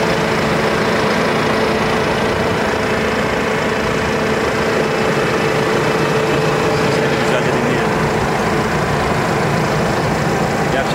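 A Deutz-Fahr 6135 C Warrior tractor's 143 hp diesel engine idles with a rough, steady rumble, heard up close and loud throughout, with a broadband clatter over the low drone.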